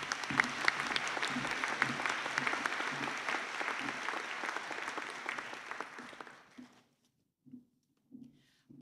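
A graduation ceremony crowd claps in a steady, dense round of applause for about six seconds, then it dies away, leaving silence with a few faint bumps and sparse sounds.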